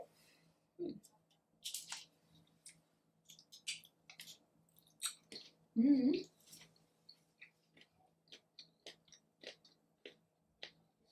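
Someone chews a homemade Ferrero Rocher-style chocolate bonbon with soft, wet squishy bites and quiet crunches, close to the mic, in irregular bursts over a quiet room.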